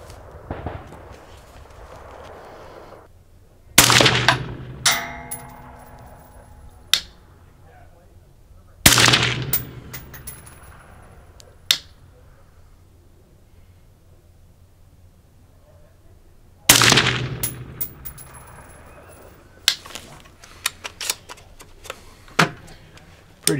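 Three rifle shots fired on an outdoor shooting range, each a loud sharp crack with a ringing tail, spaced several seconds apart, with quiet background between them.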